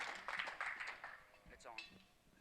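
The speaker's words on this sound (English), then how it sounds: "How about a round of applause for this Illinois boy right here?" An auction audience gives a short burst of clapping for a student auctioneer, fading over about two seconds as a voice speaks over it.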